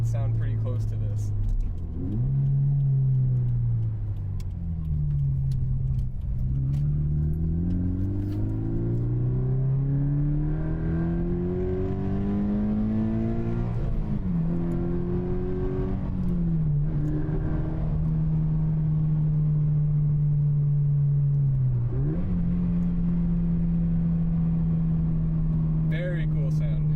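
Scion FR-S sports car exhaust fitted with a Supertrapp WaveTech muffler, droning steadily as revs rise and fall through several pulls, heard from inside the car under a light hiss of road noise.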